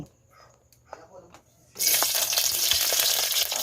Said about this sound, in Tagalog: Magpaita tayo ng mantika sa kawali.